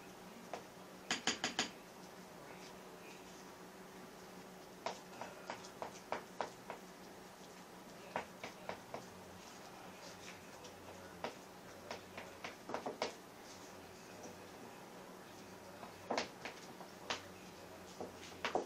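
Henna paste being stirred in a bowl, faint scraping and scattered light clicks and taps of the utensil against the bowl at an irregular pace, quiet and close.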